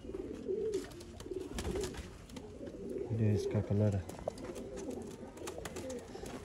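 Sialkoti pigeons in a loft setup coo in a low, rhythmic burst near the middle, with softer calls around it, while someone talks over them throughout.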